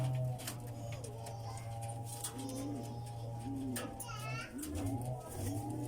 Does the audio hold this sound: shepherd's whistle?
no